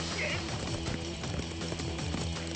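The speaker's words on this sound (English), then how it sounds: "Horse is 200 meters behind." A horse gallops across rough outdoor terrain during a wilderness chase, hoofbeats thudding in quick rhythm under a narrator's voice and steady wind noise.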